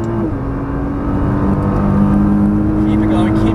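Nissan GT-R engine pulling hard on a race track right after an upshift, a loud, steady drone from inside the car that builds slightly in pitch while a driving instructor talks over it.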